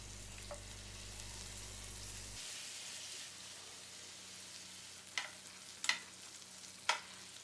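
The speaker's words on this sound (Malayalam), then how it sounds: "ഇനി 1 ടേബിൾ സ്പൂൺ കൂടെ ബട്ടർ ആ പാനിലേക്ക് ഇട്ടിട്ട് ബാക്കിയുള്ള ചിക്കനും ഇതേപോലെ തന്നെ വറുത്തെടുക്കണം" Chicken frying in butter in a pan gives a faint, soft sizzle over a low hum that stops early on, with a few sharp clinks or stirring taps near the end.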